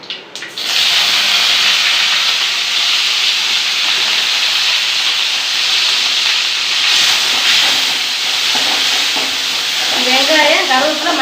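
Mustard seeds and urad dal dropped into hot oil, a sudden loud burst of sizzling that settles into a strong, steady hiss with faint crackles and pops, close-up, no voices.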